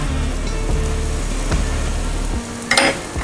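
An onion cheese paratha fries in ghee on a pan, giving a steady close sizzle with a low hum underneath and a brief clatter near the end.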